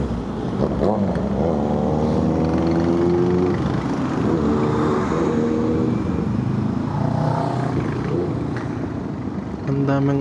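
Small 50cc motorcycle revving repeatedly nearby in Antipolo traffic, rising and falling whines in short bursts over the rider's own engine and wind noise.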